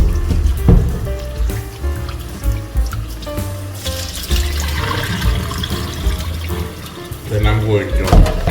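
Tap water runs into a kitchen sink while raw pork is rinsed by hand, with splashing and clattering in the basin and a person talking over it.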